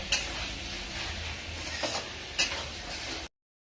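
Spice paste sautés in oil in a pan until the oil separates, a close, steady sizzle with scraping stirs and a few sharp spoon knocks against the metal.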